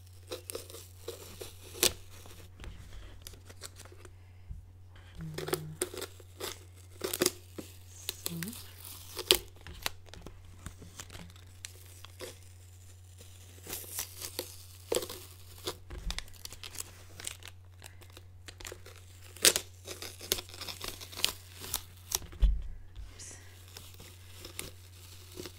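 Strips of plastic tape being torn and handled while painting stripes on small plastic items, with crinkly tearing and handling noises scattered in short bursts under a steady low hum and occasional quiet talk.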